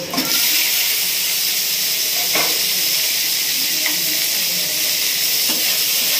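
Ginger and tomato frying in a pan give off a loud, steady sizzling hiss that runs throughout. A few faint taps and knocks come through as the mixture is stirred.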